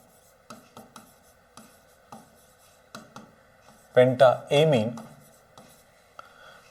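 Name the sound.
writing chemistry answer by hand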